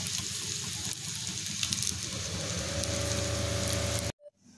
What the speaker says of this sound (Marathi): दोन्ही बाजूने आपल्याला छान खरपूस असे तळून घ्यायचे आहेत किंवा मग ते फ्राय करून घ्यायचे